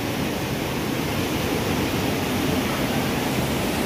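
A fast mountain stream near Raniban Dham in Darjeeling rushes past in a loud, continuous broadband roar of turbulent water, steady from start to finish.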